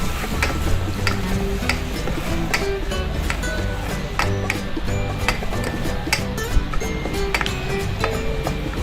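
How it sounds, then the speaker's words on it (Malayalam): Onion with soy sauce and tomato sauce is stirred in a pan for prawns manchurian, with constant close scraping and clinking of a utensil against the metal over a light sizzle. "ആഡ് ചെയ്ത് നന്നായി ഇളക്കുക"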